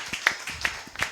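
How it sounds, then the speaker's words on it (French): A church congregation clapping during a marriage testimony service, with a few sharp, spaced claps standing out over a low murmur, fairly quiet and sparse. "Est-ce qu'on peut applaudir puissamment pour le Seigneur Jésus-Christ?"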